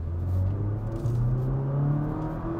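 A 2022 Porsche Macan engine revving: a deep, steady rumble whose pitch rises gradually as the revs build, heard close with no talking.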